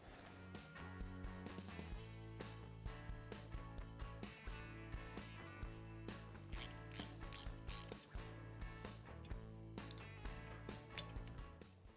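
A torque wrench clicks and ratchets while tightening the oil screen bolts on a KTM/Husqvarna 450/500/501 engine during bottom-end assembly, giving steady close mechanical ticking over a constant low background hum.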